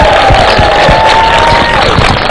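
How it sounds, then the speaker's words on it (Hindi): Loud, steady crowd noise from a studio audience cheering and applauding for the Indian cricket team before the India vs Pakistan Champions Trophy 2017 final, a dense roar with a sustained tone running through it. "जरा भारतीय टीम के लिए एक बार जोरदार तालियां हो जाए"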